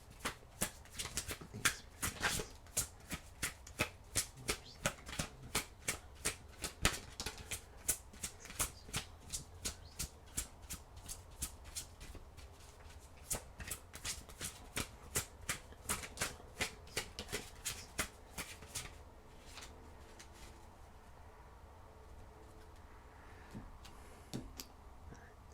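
Tarot cards are shuffled close up in a long run of quick, crisp riffling flutters and taps, fairly quiet, with no talking, slowing and thinning toward the end.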